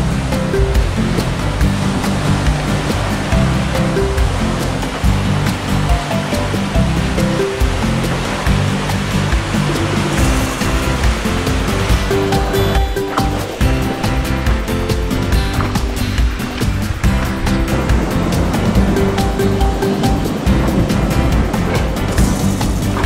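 Ocean waves wash steadily around a sailing boat on an open-sea voyage from Panama to Tahiti, producing a loud, continuous rush of surf and water with hull noise and occasional stronger splashes.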